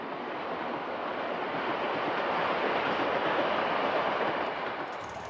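A train runs on rails through northern Iran with a steady, broad rushing roar of wheels and motion that swells slightly and stays continuous, heard close and alone.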